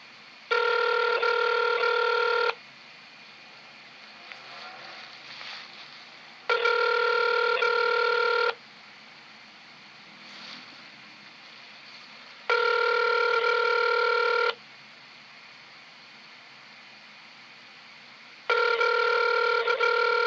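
Telephone ringing on an outgoing call to a government office, four loud, steady electronic ring bursts about two seconds each with quiet pauses between, alone with no talk.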